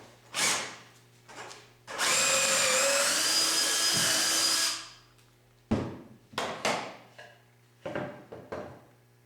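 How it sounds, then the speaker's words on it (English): A power drill boring pocket holes with a Kreg jig for raised panel doors runs in one long high-pitched whine for a few seconds, followed by several short quick bursts, close and fairly loud. "And I'll just continue all the way around drilling pocket holes."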